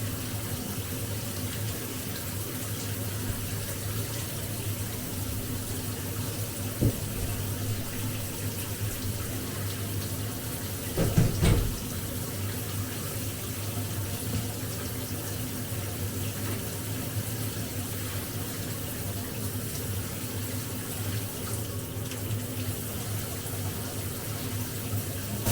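Tap water runs steadily and continuously during a natural-hair wash with shampoo, a close, even rushing hiss with a brief louder splash near the middle and no talk.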